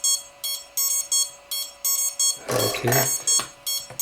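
The JYU Hornet 2 drone gives a low-battery alarm, a string of regular short, bright electronic beeps repeating about every half second, close and clear, with someone speaking briefly partway through.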